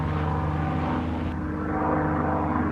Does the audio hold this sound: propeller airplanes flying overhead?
yes